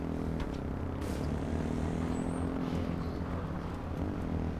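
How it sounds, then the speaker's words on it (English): Propeller airplane droning past in a video game, a steady low engine hum held at an even level throughout, with no talk over it. "That's where the plane's driving by."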